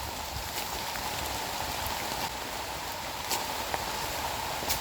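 Steady rain hisses down on a mountain trail descending Gunung Catur toward Puncak Mangu, an even wash of drops with a few sharper drips striking nearby, no voices.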